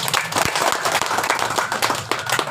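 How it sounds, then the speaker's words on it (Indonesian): Dense crowd applause and clapping at a political rally, loud and continuous, with a few voices shouting faintly underneath. "Kita tepuk tangan untuk kita semua."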